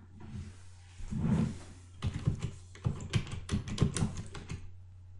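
Typing on a computer keyboard, a short run of quick close key clicks in an uneven rhythm lasting a few seconds, moderately loud with no talk.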